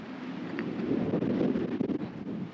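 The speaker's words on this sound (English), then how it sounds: "It's so windy. I don't even know if you can hear me." Gusty wind buffets a microphone, producing low rumbling thumps and rustling bursts that rise and fall irregularly, fairly close and moderately loud.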